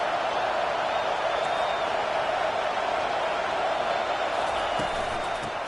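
A stadium crowd at a Gators v LSU football game roars steadily and loudly throughout, a dense wash of many voices with no breaks.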